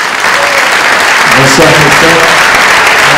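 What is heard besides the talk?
audience applause at evening event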